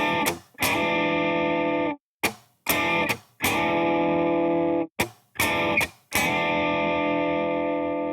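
Electric guitar with distorted, effects-heavy tone playing the opening beats of a song: sustained chords broken by sharp muted downstroke chops and short gaps, loud and close, with no talking.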